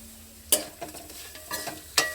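Onion and curry leaves frying in a small pan, with a quiet sizzle broken by a few sharp utensil scrapes and taps, close and brief.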